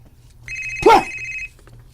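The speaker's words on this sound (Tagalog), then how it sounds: "Ay akong cellphone." Cellphone ringtone sounding once as a steady electronic tone, loud and close, with a brief thump in the middle.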